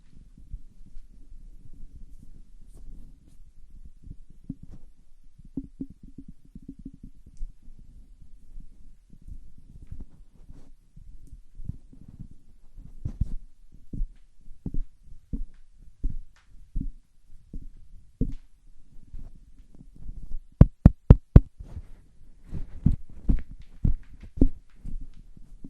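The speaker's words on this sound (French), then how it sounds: "je vais me passer le microphone de main en main pour que vous puissiez comparer la quantité de bruit indésirable qui peut capter lors de la manipulation de celui-ci" Handling noise from a Shure SM58 microphone passed from hand to hand: a low rumbling bed of rubbing with soft irregular thumps, building to a cluster of sharper knocks and clicks near the end.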